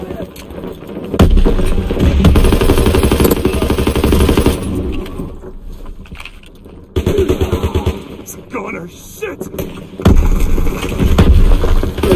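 Bursts of automatic gunfire in Call of Duty: WW2, loud and close in repeated volleys broken by short lulls, with voices calling out between the shots.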